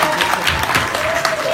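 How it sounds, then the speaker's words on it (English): Audience at a trading business seminar claps for itself in a brief, busy patter of applause, with some crowd noise and a faint voice mixed in underneath. "So give yourself a round of applause."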